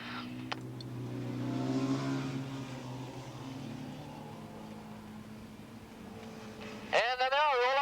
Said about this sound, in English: Roloff and Minig get by the bigger bikes, and here they come out of turn number 9